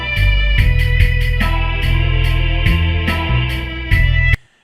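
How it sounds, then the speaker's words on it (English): Loud music with sharp, repeated percussive hits whose tails ring out with a metallic, springy reverberation before cutting off abruptly. "so it has that old spring reverb thing going."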